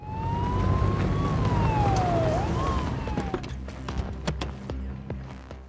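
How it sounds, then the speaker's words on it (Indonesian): A police siren wails with a slow rising and falling tone, fading out partway, followed by scattered clicks and knocks nearby. "mereka tiba-tiba mendengar sirene polisi dari luar"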